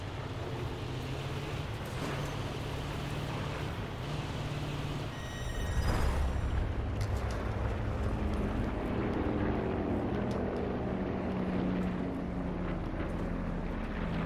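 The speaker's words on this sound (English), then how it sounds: "Helicopter." A helicopter in Call of Duty: Black Ops 4 drones with a steady rotor and engine hum, growing slightly louder and closer partway through and continuing alone without talk.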